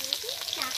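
Potatoes fry in a pan for a light curry with onion, tomato and green chilli, a soft continuous sizzle with faint stirring scrapes heard briefly and fairly quietly.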